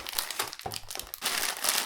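Close, crisp crinkling of a plastic packet being handled, rustling in irregular bursts with a brief pause midway.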